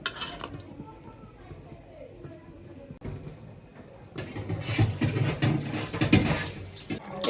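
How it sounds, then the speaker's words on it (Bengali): Chicken roast is stirred in a pot, then a lid clatters on, with metallic scrapes and clinks close by and a busier rattling stretch near the end. "একটু নেড়ে এখন আমি একটু ঢেকে দিব"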